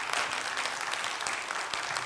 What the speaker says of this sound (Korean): 다시 한번 박수로 응원해 주시기